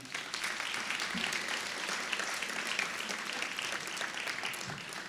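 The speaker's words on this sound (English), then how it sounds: "So let's give her a hand." An audience at a Garifuna anniversary celebration in Brooklyn breaks into steady, sustained clapping that holds for several seconds, dense and even without a clear peak.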